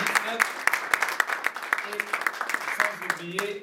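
A church congregation claps in a quick, steady rhythm, many hands close together, while a voice talks over the clapping throughout.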